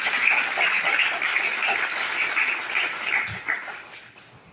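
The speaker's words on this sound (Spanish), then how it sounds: "solicito un fuerte aplauso para cacica Elena Cruz" An audience at a congress session applauds cacica Elena Cruz Guerra with sustained, fairly loud clapping that gradually fades toward the end.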